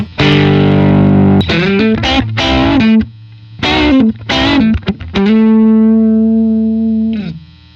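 Electric guitar through a high-gain amp with the gain pushed up and distortion, loud and saturated: several choppy bursts of heavy chords, then one long sustained chord that rings out before cutting off. No one talks.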